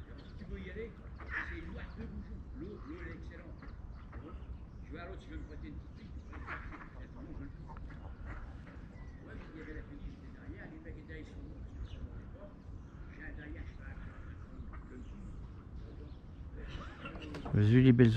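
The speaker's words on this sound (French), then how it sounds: "Vous avez vu les belles oies?" Geese and ducks call by the Oise river, scattered honks and quacks at moderate distance under ongoing conversation, with a louder burst of calls near the end.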